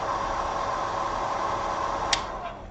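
A hair dryer blows over a painted figurine to smooth the paint shade, giving a steady, even whooshing hum that runs throughout. A brief faint click comes near the end.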